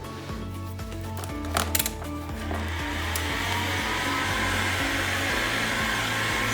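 A heat gun blows steadily up close while vinyl wrap is warmed over a round table top, giving a continuous whirring hum with a few brief rustles and no voices.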